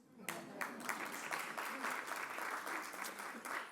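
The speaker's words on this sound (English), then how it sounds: "I'd call for applause." An audience at a policy symposium bursts into applause, starting abruptly after a brief quiet moment and holding as a steady dense clatter of clapping, moderately close, with some voices underneath.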